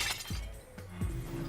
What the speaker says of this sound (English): There's a lot of glass breaking for such a...